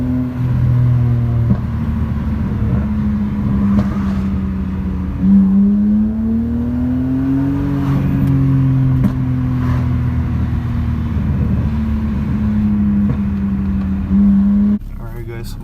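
BMW 335i exhaust burbling and rising through revs, a deep rumbling drone that swells and falls, loud and close, with people talking over it.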